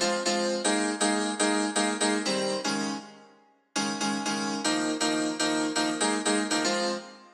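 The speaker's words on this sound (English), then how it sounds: "This really gives kind of a lower and still bright sound in the hard played piano." A bright, hard-played piano sound, an Arturia piano layered with an overdriven Ableton grand, strikes steady repeated chords across two phrases separated by a short fading gap, close and full with no talking.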